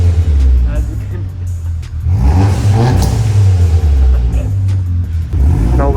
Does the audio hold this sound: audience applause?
no